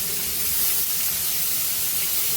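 About 400 grams of large onions sauté in hot oil in a pan for a South Indian vada curry, giving a steady, even sizzling hiss with no pauses.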